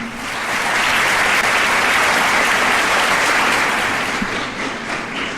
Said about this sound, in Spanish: Para él un aplauso.